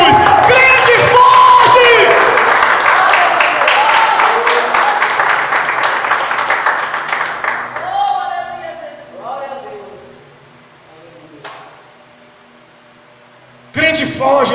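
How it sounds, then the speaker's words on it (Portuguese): A church congregation breaks into loud applause and cheering, a dense roar of clapping and shouts that swells and then fades over several seconds, with voices calling out as it dies down before another burst starts. "Quem pode aplaudir a Jesus?"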